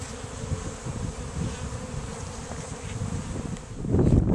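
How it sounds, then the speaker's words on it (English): Honeybees drone in a continuous close buzz over a brood frame pulled from a healthy hive, with a louder burst of buzzing near the end. "these great big bees right here on the edge, they're drones, they're the males"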